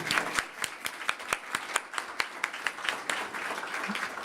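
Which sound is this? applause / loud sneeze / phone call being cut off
applause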